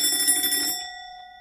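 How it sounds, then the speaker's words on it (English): A doorbell chimes once, a bright electronic ring with a steady tone that rings on and fades out over about a second, heard alone in a quiet room. "Hey, that's the doorbell."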